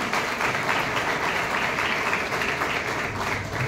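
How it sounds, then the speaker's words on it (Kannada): Government pre-university college students applaud loudly at an MLA's birthday celebration in Chikkodi, a sustained, dense wash of clapping from a crowd that holds steady throughout. "ಸರ್ಕಾರಿ ಪದವಿ ಪೂರ್ವ ಕಾಲೇಜು ವಿದ್ಯಾರ್ಥಿಗಳಿಂದ ಒಂದು ಜೋರಾದ ಚಪ್ಪಾಳೆ ಬರಲಿ ಅಂತ ವಿನಂತಿಸಿಕೊಳ್ಳುತ್ತೇನೆ."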